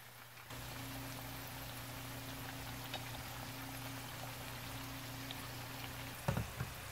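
Chips deep-frying in hot oil for fish and chips, a steady, soft crackling sizzle that runs throughout, with a brief clatter near the end.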